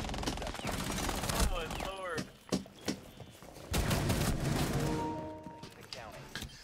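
Gunfire in the video game Operation Deadly Omen, fast bursts of rapid shots and sharp cracks in several clusters, close and fairly loud, with a voice talking over parts of it.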